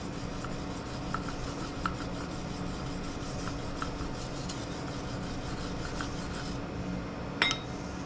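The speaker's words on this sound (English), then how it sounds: "Let's freshen that up with a wire brush real quick." Wire brush scrubbing rust off a leaf blower magnet, a steady close raspy rubbing that runs throughout with a few brief scraping accents.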